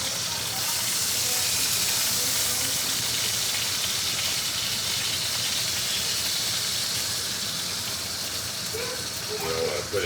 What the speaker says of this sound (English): Just searing it on all ends.